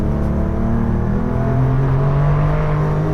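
The air-cooled engine of a Porsche 964 RS, fitted with KW motorsports suspension, drones loudly and steadily from close range, a dense rumbling tone with its pitch rising slightly, no voices.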